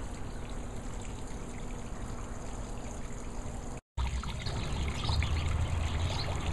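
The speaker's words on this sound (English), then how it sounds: "nothing like the sound of trickling water in your backyard" Water trickles in a small backyard pond beside a deck: a faint, steady babble and dribble that runs on with only a brief gap, with no voices.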